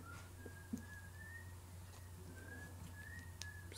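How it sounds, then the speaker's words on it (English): A person whistles a wavering tune somewhere off in a kitchen, faint and distant over a steady low room hum, with a few soft clicks. "Can you hear him whistling in the kitchen and completely ignoring me?"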